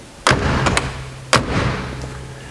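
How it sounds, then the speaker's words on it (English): Convertible top of a 1966 Corvette Stingray being raised, with two heavy thumps as the frame drops and seats, the first followed by smaller knocks, the second trailing into a low hum. "show kind of how quick and easy it is to put up the top"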